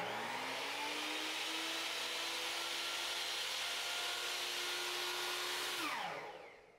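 A Skilsaw SPT99-11 table saw motor whines at a steady high pitch, heard close from about three feet in front of the blade, then spins down quickly to a stop at the end.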